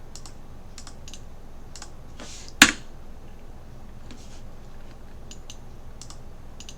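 A computer keyboard being typed on, a few soft scattered keystrokes with one sharper click in the middle, close and quiet, with no voices.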